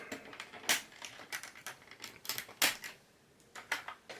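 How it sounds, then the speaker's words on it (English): Dashboard fascia dial on a 2021 Fiat Ducato clicking into place, a few sharp plastic clicks and snaps close by, with two louder crisp clicks standing out among lighter ticks. "then everything clicks nicely into place."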